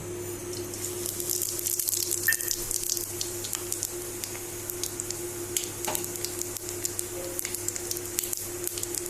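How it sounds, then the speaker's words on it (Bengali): Panch phoron and a dried red chilli crackle and sizzle in hot oil in a kadai, with steady frying hiss and scattered sharp pops, close and continuous, no talking. "এবার এই কড়াইতে তেলটা গরম হয়ে গেলে আমি এর মধ্যে ফোড়ন দেব"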